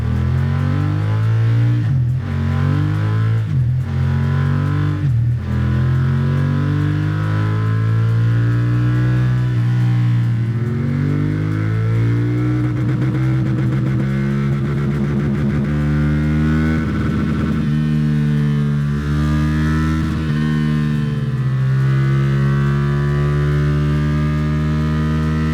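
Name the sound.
BMW F900R motorcycle engine revving during dyno runs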